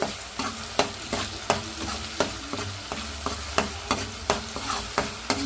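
Tomato paste with ground coconut, ginger and small onion paste frying in a pan, a steady sizzle broken by regular knocks of a spoon stirring against the pan, close up with no talking.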